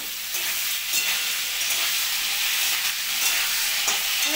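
Beans and browned potatoes fry in a pan with a dense, continuous sizzle and crackle close by, loud and even throughout, with no one talking.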